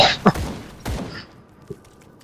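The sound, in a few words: gunfire from the player character in the video game Grim Dawn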